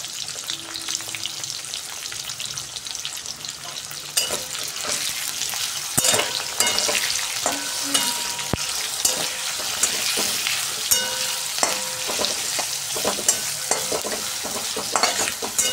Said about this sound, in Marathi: याच तेलामध्ये आता आपण कांदा आहे तो छान असा ब्राऊन रंगावर तळून घेणार आहे।